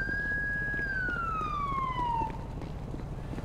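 Police siren in GTA 5, a loud wailing tone that holds steady then sweeps downward before cutting off, with traffic rumble continuing underneath.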